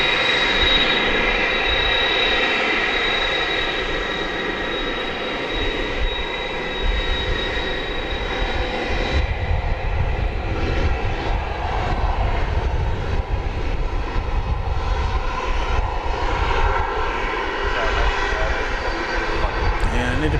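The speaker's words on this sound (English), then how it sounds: "This plane landed 20 minutes ago over on the east side, and it's been taxiing ever since." A taxiing airliner at DFW Airport produces a sustained loud engine whine and rumble, steady throughout with a high tone dropping away midway.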